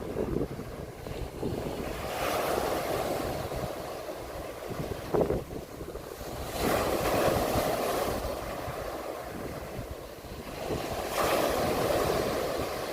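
Ocean waves roll onto the shore at Lowestoft, UK, a broad continuous wash that swells in three surges, with wind buffeting the microphone throughout.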